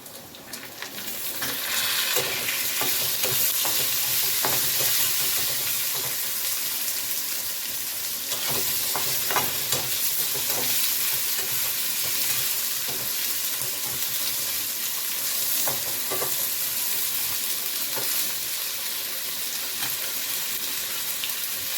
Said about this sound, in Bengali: টমেটো গুলো একটু হোক ফ্রাই, তবে বাকি মশলাগুলো আমরা দিয়ে দেব।